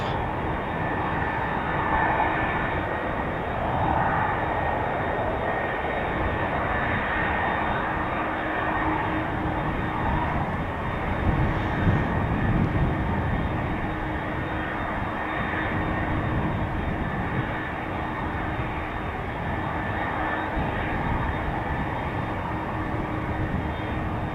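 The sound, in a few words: airplane taking off from runway at Amsterdam Schiphol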